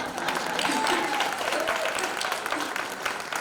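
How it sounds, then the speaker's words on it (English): Audience applause at a community speaking event, steady moderate clapping with brief voices heard beneath it. "give him a round of applause"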